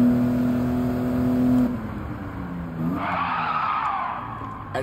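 Car tires skidding under handbrake in the Gran Turismo 7 racing game, played with a Thrustmaster wheel: a loud sustained engine drone drops away into a long, bright tire squeal that holds for a couple of seconds.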